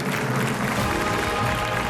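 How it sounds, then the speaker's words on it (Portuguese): A studio audience applauds a new contestant arriving on a Portuguese television game show, a steady wash of clapping throughout at moderate level, with no voices on top. "O vosso aplauso para o Carlos Morgado."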